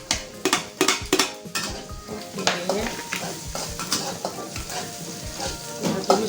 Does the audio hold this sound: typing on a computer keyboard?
no